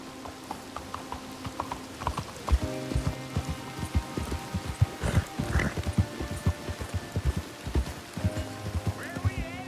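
In the video game Red Dead Redemption 2, steady clip-clop of horse hooves at a brisk pace with a light patter of rain behind, a voice speaking briefly over it.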